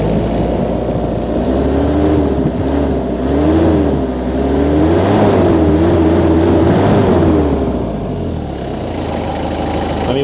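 A 1995 Toyota Mighty X pickup's 2L 2.5-litre diesel engine with an inline injection pump, in good running order, idles with a steady rumble and is revved in several rising and falling swells, close and loud with no talking.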